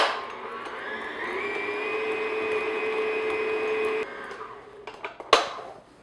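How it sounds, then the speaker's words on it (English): An electric stand mixer beats butter on medium-low speed with a steady whirring hum for about four seconds, then cuts off, followed by a few clinks and a sharp knock. "So what we're going to do is just beat this just to make sure that our butter is nice and soft"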